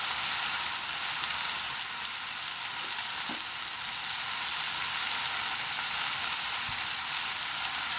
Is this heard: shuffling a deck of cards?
no